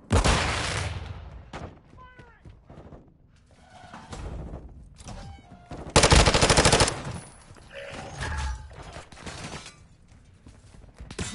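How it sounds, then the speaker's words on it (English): Video game gunfight with a thrown flash grenade: bursts of rapid gunfire and shots come and go, a sharp loud blast lands near the middle, and voices speak over the fighting. "Throwing flash grenade!"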